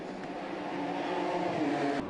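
A race car driving into the pit lane at the Dunlop 24H Dubai 2012 endurance race, a steady mid-pitched engine whine that rises slightly as it approaches, fairly loud and close, with no talking.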